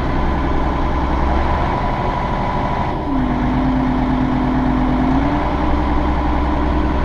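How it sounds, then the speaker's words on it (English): A muck-spreading tractor with a slipping clutch struggles under load, its engine running as a loud, steady low drone with a brief sustained whine midway and no talking. "it's not very good, this tractor at the moment."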